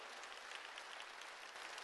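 A church congregation applauds during a sermon, a steady wash of distant, fairly faint clapping that holds evenly throughout with no voices over it.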